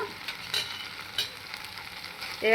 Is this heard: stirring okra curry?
yes